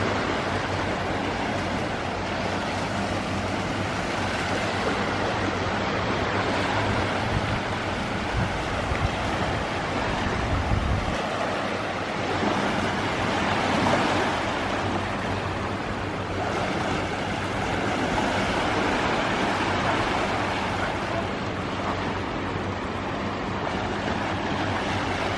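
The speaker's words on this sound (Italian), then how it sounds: "Comunque questo qui sarebbe il mare di oggi." Sea surf washes steadily onto a beach on a sunny day, a continuous broadband roar with slow swells and wind buffeting the microphone, no voices.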